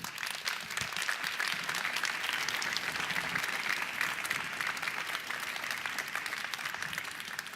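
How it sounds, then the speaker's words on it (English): At the hackathon award ceremony of the Paris Peace Forum 2018, a seated audience gives sustained, even applause. The clapping is moderately loud and steady throughout, with a faint murmur of the crowd underneath. "So a round of applause for our hackathon partners."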